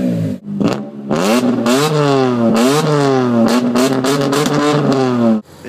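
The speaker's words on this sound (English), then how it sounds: "Loud exhausts, loud engines." A car engine with a loud exhaust revving hard several times in a row, each throttle blip rising and falling in pitch, close and very loud before cutting off abruptly.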